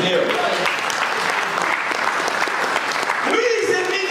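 A church congregation applauds loudly and continuously to acclaim the Lord during a sermon, a dense, sustained clapping with voices mixed in.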